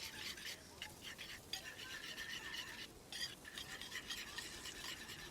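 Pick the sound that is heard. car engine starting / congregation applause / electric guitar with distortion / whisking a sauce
whisking a sauce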